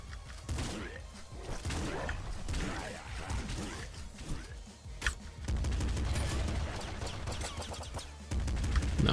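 Rapid, loud shotgun blasts in the top-down shooter Nuclear Throne, firing repeatedly in dense bursts amid other game impacts and crashes, with almost no talk.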